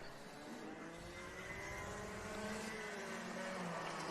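A couple of R1 race cars run at Fulbeck Gear Fest, their engines droning at a distance with a sustained, rising whine that holds steady and gently grows louder as they approach.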